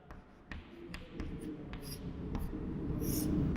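Chalk or marker scratching and tapping across a board during a Class 8 maths lesson on linear equations in one variable, a series of short strokes and taps, close and fairly quiet, with a low room murmur beneath.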